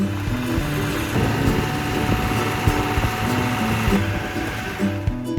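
A tractor engine chugs steadily throughout a ride on a road in Uttarakhand after two days of rain, with a continuous low mechanical drone and rattle at constant loudness.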